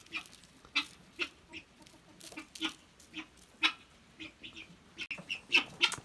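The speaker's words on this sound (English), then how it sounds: "Been letting the chickens out through the day, and they come down here in the barn and scratch around" Chickens scratching around in a barn cluck and make short calls in irregular bursts, moderately close, with small rustles between the calls.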